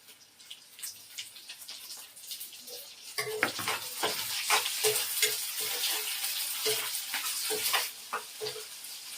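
Green chilies frying with okra in hot oil crackle and sizzle steadily, broken by irregular stirring scrapes and clinks of a spoon against the pan.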